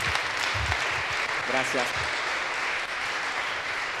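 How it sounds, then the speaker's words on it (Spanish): A church congregation applauds in a steady, dense wash of clapping that fills the whole stretch, while someone briefly speaks over it. "Dale un aplauso al Señor."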